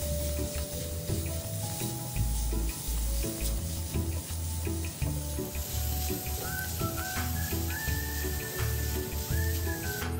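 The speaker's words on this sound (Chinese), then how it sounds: "再将预先切好的鸡肉丝倒入，再继续将鸡肉炒开" Shredded chicken stir-fried in a wok while glutinous rice balls are cooked, giving a steady close sizzle with clattering stirring and scraping throughout and no talk.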